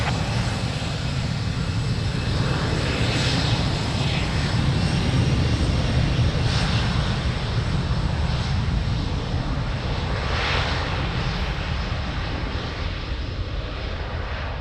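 An airplane takes off from runway 02 at Lisbon Airport, giving a loud, continuous engine roar that holds steady throughout at close range with no talking.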